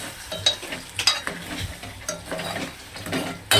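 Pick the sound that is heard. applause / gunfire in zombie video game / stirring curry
stirring curry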